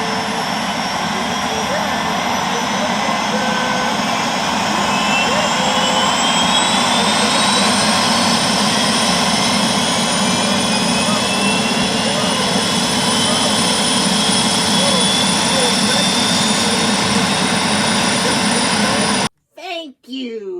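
A steady, loud engine roar with a high whine runs throughout, like a turbine helicopter idling nearby, then cuts off abruptly near the end.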